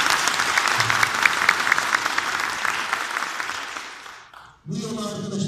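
Village association general assembly audience in Araç, Kastamonu applauding loudly for about four seconds as a dense, steady burst of clapping, fading out before a brief pause and a new stretch of room sound.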